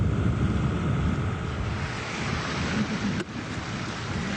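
A 1,200 pound Tsurumi sludge pump churns thick slurry with a steady, loud, broadband rushing and gurgling roar of water, continuous and close, with no talking.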